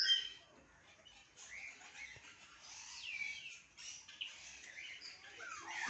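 Birds in an aviary at a bird park, including parrots such as cockatoos, give faint chirps and squeaky calls on and off against quiet background ambience, with no talking.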